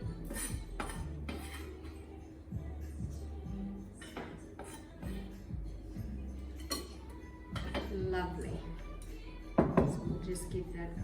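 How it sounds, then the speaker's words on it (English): A spoon stirs sage stuffing in a bowl or pot, making repeated scraping clinks and knocks against the dish. A voice talks now and then over the stirring. "just give that a good stir"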